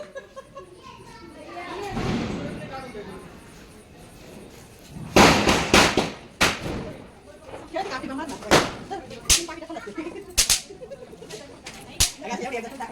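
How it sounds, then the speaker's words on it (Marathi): Sharp cracking bursts of Diwali firecrackers go off in an irregular series, some in quick clusters, loud and close, with voices talking in between. "फटाके मोड ऑन झालाय."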